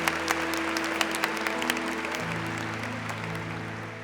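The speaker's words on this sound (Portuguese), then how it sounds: "Salve de palmas para minha tia Tel." Audience applause for aunt Tel at a religious gathering led by Frei Gilson, a dense crowd clapping continuously with a sustained hum running underneath.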